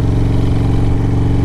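A 2007 Harley-Davidson Road Glide fitted with a 113 Screaming Eagle engine runs loud and close, its deep steady rumble throbbing evenly throughout.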